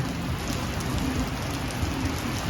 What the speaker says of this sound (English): right now it's crazy rain outside